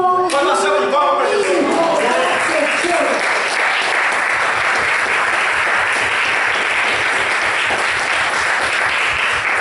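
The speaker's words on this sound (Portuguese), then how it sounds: "Uma salva de palmas para Jesus." A church congregation bursts into loud, sustained applause for Jesus after a sermon, with dense continuous clapping filling the space and voices calling out over it near the start.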